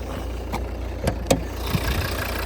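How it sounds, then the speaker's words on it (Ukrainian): A five-cylinder 2012 Volvo V60 D3 diesel engine idles with a steady low rumble, broken by a few sharp clicks and knocks from close by. "я вам забув продемонструвати, що це саме 5-циліндровий двигун"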